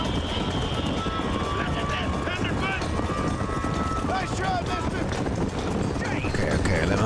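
A horse gallops hard during a chariot race in Red Dead Redemption, a dense continuous rush of hoofbeats and wind-like noise kept loud and close throughout, with no talk over it.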